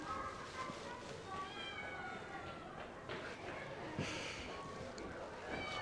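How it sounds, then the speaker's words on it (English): Cats meow faintly at the Ephesus terrace houses, short scattered calls mixed into outdoor ambience with people talking and footsteps nearby. "Got a bunch of cats greeting us to go into the terrace houses here."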